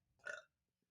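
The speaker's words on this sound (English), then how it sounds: "Sorry to burp." A single loud burp from a woman, rising quickly and fading within half a second, then near silence.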